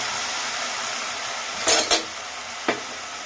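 Vermicelli stirred with a little milk in a pan, a soft steady scraping hiss with two sharp clinks of a utensil against the pan close together and a third shortly after.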